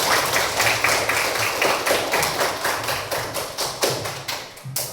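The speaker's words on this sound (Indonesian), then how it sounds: "Tepuk tangan untuk kita semua" A group, likely a class of children, claps their hands together in fairly loud, brisk, somewhat rhythmic bursts that continue steadily for several seconds.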